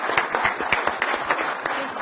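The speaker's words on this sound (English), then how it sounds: "let's give them a big round of applause for a great job" Audience applause at a City of Chino council meeting, a dense burst of many hands clapping steadily and fairly close, with no other sounds for about two seconds.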